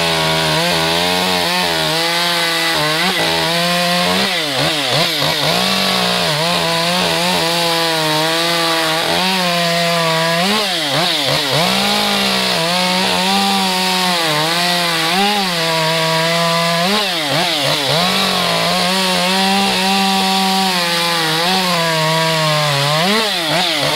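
Modified STIHL 201T, 201Tc and 200T top-handle chainsaws, fitted with the same bar and chain, cut through logs at a wood pile, a loud, continuous high-pitched engine whine that rises and dips as the chain bites, with no talking.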